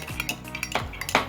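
A spoon stirs a sweet soy sauce remedy mixture in a small dish, giving quick light clinks and scrapes of metal on the container in a short burst.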